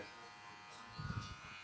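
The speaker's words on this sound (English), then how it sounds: "Concentrated clipper strokes." Electric hair clippers run during a child's haircut, a faint steady buzz with a short cluster of louder stroke bursts near the end as the blades work through hair.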